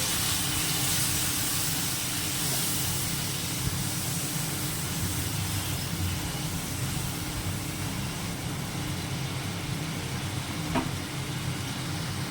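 Spice paste for a bhola fish and onion curry sizzles in a pan after a splash of water goes in, giving a steady, close, broadband hiss that runs unbroken throughout with no talking.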